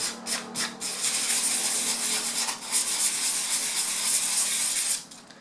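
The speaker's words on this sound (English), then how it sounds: "just get a little bit of sandpaper, guys. And again, the very fine grain" Fine-grain sandpaper rubbing over a gessoed canvas, a close, steady dry hiss of back-and-forth strokes with a few short scrubs at the start, continuous and fairly loud, no voices.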